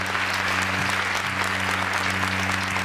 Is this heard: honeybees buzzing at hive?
no